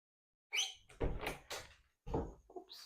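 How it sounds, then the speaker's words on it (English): A kitchen door is pushed and knocked shut in several close, muffled bumps and rattles, with short gaps between them and no talking. "let me shut the kitchen door"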